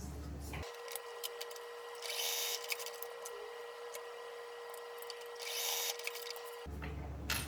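A sewing machine runs basting stitches outside the seam allowance on a small knitting pouch, a steady, fairly quiet mechanical whir that holds for about six seconds with no talk.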